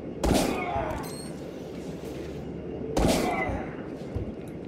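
Two sharp, loud sniper rifle shots in a video game, about three seconds apart, each with a ringing echo, over steady background rumble.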